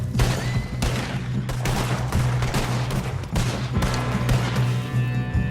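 Rapid bursts of gunfire from a Western shootout in the video game Red Dead Redemption 2, loud and dense with repeated volleys and short gaps, no talk.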